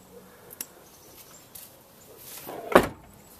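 A car door latch pried loose with a screwdriver during a stuck-latch repair releases, followed by the door closing with a single loud, close thump after a few faint clicks and taps, with no talking.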